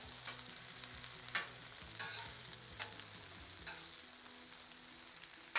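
Chicken wings sizzle and fry in grease on a Blackstone griddle, a continuous crackling hiss with a few sharp spatula scrapes and clacks as they are turned, close up.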